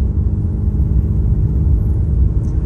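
A 2022 Ram 2500 Cummins diesel pickup towing a 40ft gooseneck trailer at light throttle, heard from inside the cab as a steady, loud low rumble and road drone with no talking.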